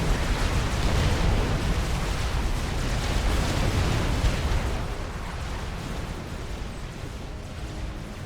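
Artillery fire in the strategy video game Wars of Glory, a dense, rumbling wash of distant explosions and bursts that stays loud, then eases slightly, with no voices.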